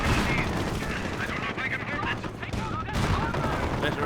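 A Greyhound armored car fires in Company of Heroes battle, rapid bursts of gunfire crackling continuously amid dense explosive combat noise, loud and busy, with a commentator talking over it.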